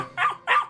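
Two sharp barks from an animated dog chasing an intruder away from a doorstep, close and loud with a short pause between them.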